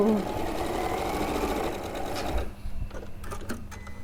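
A domestic sewing machine stitches along a marked line on a background quilt square, a steady close whirring run that stops abruptly partway through, followed by quieter handling noises and light talk.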